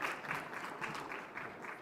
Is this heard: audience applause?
yes